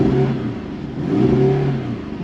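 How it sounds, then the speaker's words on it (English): A Porsche 718 Cayman's flat-four engine, with the sports exhaust engaged, holds a close, loud rev against the limiter, its raspy drone wavering slightly and never dropping away. "put the sports exhaust on, and give it a rev"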